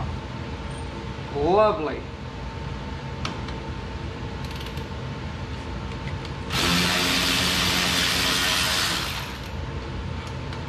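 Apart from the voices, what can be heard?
Milwaukee 3/8 battery powered ratchet removing a bolt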